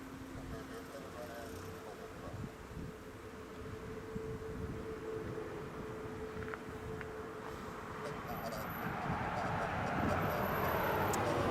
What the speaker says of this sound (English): The Ryanair Maxes taxiing out.